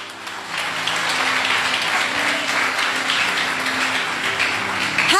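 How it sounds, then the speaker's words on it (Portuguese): Congregation applauding at a church service, sustained dense clapping from many people that fills the room evenly and stays steady throughout. "Você pode aplaudir ao Senhor?"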